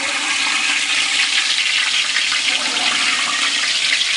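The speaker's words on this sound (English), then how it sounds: "We're dropping it in the oil." A whole turkey being lowered into a pot of hot frying oil gives off a loud, steady, broadband hiss and sizzle that holds evenly for the whole stretch, with no talking.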